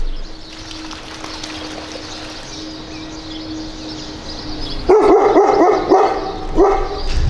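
A dog splashing as it bathes in water outdoors, a steady wash of trickling and sloshing that turns into louder, choppy splashes in the final seconds, with a bird or two calling faintly.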